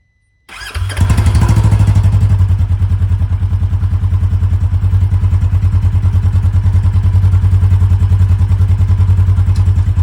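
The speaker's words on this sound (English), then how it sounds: "the sound test of the SLP slip-on exhaust on the 2017 Polaris Ace 900XE" A 2017 Polaris Ace 900 XC engine with an SLP slip-on exhaust on stock ECU tuning starts and settles into a loud, steady idle with a throbbing, rapid pulse, close up and alone.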